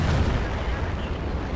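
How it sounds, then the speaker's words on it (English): A Super Pershing tank cannon shot in World of Tanks, a heavy booming blast that rolls off into a dense low rumble, loud and close. "Take another shot from the Super Pershing."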